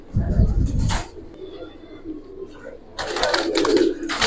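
Giribaz, racer and fancy pigeons coo in a loft, low calls heard between loud bursts of nearby talk and flapping movement.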